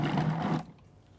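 A Cuisinart FP-14DC Elite Collection food processor kneading dough gives a dense, close motor whir with a low hum that stops abruptly partway through, leaving a faint tail.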